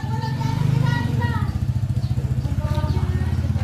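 Small motorcycle ridden by children, its engine chugging close by in a steady pulsing beat and revving briefly, with voices, including children's, talking over it.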